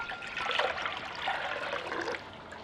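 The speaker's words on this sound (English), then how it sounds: "I'm going to be adding in 4 cups of water." Water pours steadily into a pot on a burner for strawberry lemonade, a soft, continuous trickling splash that stays fairly quiet and eases off near the end.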